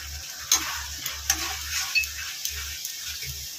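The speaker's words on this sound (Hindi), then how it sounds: "इसे चला लेते हैं। इसमें हल्दी डालेंगे।" Chicken being stirred in a frying pan after turmeric goes in, a steady sizzle of frying with repeated scraping strokes of a spoon against the pan, close and clear, no talking.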